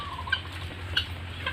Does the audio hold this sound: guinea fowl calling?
yes